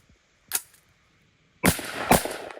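Pistol shots fired in a shooting drill, a single sharp report followed after a pause by two quick loud bangs with ringing echo, close and without talk.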